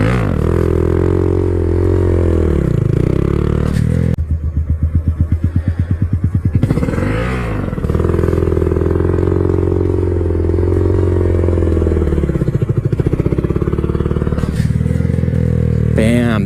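A Honda Grom motorcycle revving hard as the clutch is dumped for a wheelie, a loud close engine note rising and falling with a rapid sputtering burst midway, while a rider talks over it.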